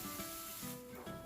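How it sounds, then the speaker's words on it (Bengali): Ginger-garlic paste fries in hot oil while a spoon stirs it, giving a faint, steady sizzle with light scraping strokes throughout. "এখন একটা স্পুন দিয়ে এগুলোকে আমি কিছুটা পেঁয়াজ বেরেস্তার মতন করে বাদামি কালার করে ভেজে নিচ্ছি"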